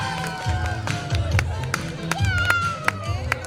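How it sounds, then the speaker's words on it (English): Children and parents cheer and clap at a kindergarten school sports day race, a lively outdoor crowd with scattered sharp claps and shouts, and voices calling out over the noise. "Cheer them up, cheer them up."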